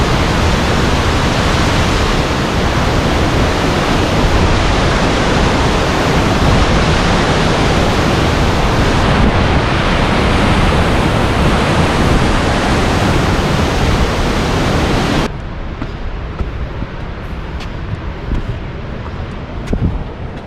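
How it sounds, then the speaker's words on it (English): Banias Waterfall sends a high volume of water crashing down in a loud, steady broadband roar heard close up, which drops abruptly to a quieter, duller rush near the end. "Since there's such a high volume of water coming down, I'm getting constant mist in my face."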